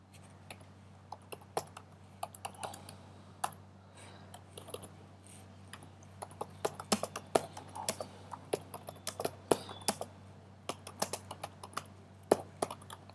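Kotlin code being typed on a computer keyboard: irregular bursts of quick, close key clicks over a steady low electrical hum, with no talking.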